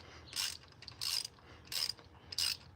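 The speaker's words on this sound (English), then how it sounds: "Now that's how you loosen a head bolt." A ratchet loosening a head bolt on an old, tired Chevy 305 engine from an El Camino, four short bursts of rapid clicking spaced evenly, close and clear.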